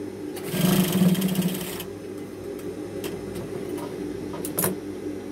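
An electric sewing machine stitches the waistband of a pair of jeans in a rapid, loud, buzzing run that stops abruptly. Quieter handling clicks and taps follow.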